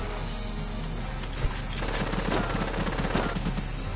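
Rapid machine-gun fire and gunshots in the tactical war game Valkyria Chronicles, as shock troopers open up: a dense rattling burst that builds midway and keeps a quick, even rhythm, loud and close.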